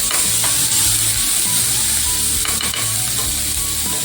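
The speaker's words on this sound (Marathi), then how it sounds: "हा छान कांदा मी फ्राय करून घेते." Onion fries in ghee and oil with a continuous loud sizzle and crackle, plus faint rhythmic scraping from a spatula stirring the pan.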